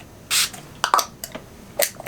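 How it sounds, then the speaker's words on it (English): Wet n Wild Photo Focus Natural Finish setting spray misted from a pump bottle, one close, loud hissing burst of spray followed by a few softer clicks and taps. "this is the setting spray. This is the Photo Focus Natural Finish."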